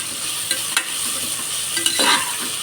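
Thinly sliced onions sautéing in a pressure cooker for a peas and meal maker pulao: a steady close sizzle broken by a few sharp spoon scrapes and clinks against the pot, with no talking.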